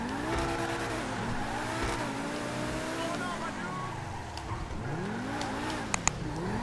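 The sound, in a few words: car driving in video game GTA 5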